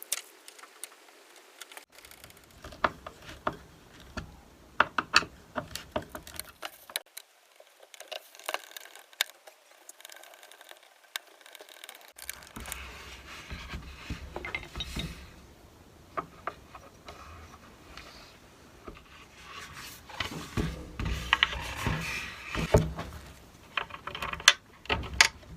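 Screws being driven through hinges into a wooden kitchen cabinet door frame produce irregular ticking, ratcheting mechanical clicks and patter. The sounds are close and moderately quiet, grouped in bursts with pauses between them and no talking.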